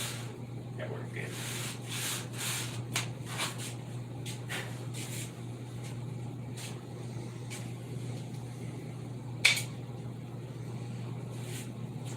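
A small homemade balsa wood sanding tool is rubbed back and forth in short scratchy strokes over a steady low hum, with one sharper knock near the end.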